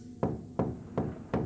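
Four evenly spaced, firm knocks on a door in the horror video game Find Me sound in slow succession and close by, with no talking.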